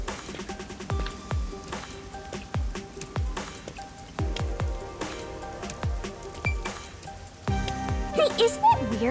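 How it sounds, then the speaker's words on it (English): Steady rain falls in the rainy city of the game Master Detective Archives: Rain Code, a continuous patter with heavier droplet hits, mixed with game music and chimes and no talking. "isn't it weird how it's not flooded, given how it's always raining here?"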